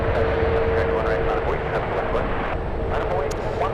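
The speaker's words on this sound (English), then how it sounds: "Runway 737 lining up." A Boeing 737 jet lines up on a San Francisco runway, its engines giving a steady, loud roar with a thin whine running through it, while a voice speaks over it.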